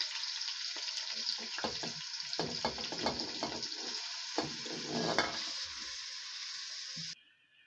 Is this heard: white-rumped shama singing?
no